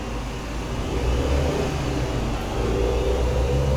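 Simulated Scania R440 truck engine in Euro Truck Simulator 2, a steady loud low drone that builds slightly as the rig pulls away slowly from a standstill, with no voices.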